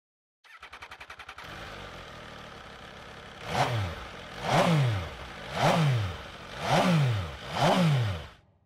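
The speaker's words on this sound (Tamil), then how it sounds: "இந்த பைக்கோட எக்ஸாஸ்ட் சவுண்ட் வந்து நான் ப்ளே பண்றேன்" An MV Agusta Brutale 800 RR engine idles with a rapid ticking, then its exhaust revs hard five times in an even rhythm, each roar rising and falling, loud and close.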